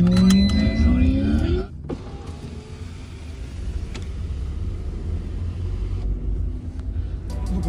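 A Tata Nexon XZ Plus SUV drives along, its low engine and road rumble steady inside the cabin after a brief mechanical whir and clunk at the start.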